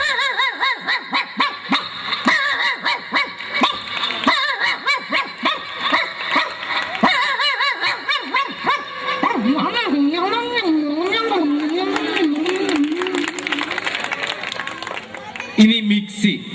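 Man on a Malayalam comedy stage vocally imitating a stray village dog's bark, a series of rising and falling yelps and howls over continuous audience noise and scattered laughter.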